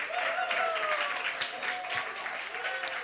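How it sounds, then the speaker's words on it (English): Audience applause at an evening creative arts show, steady clapping filling the room after a dance act, with a presenter's voice and music tones running over it. "final round of applause for them"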